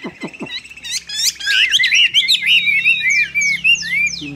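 A caged hwamei, the Chinese melodious laughingthrush, sings loud and close, opening with a few sharp chirps before running into a fast, varied, rippling melodic song with repeated sweeping whistles.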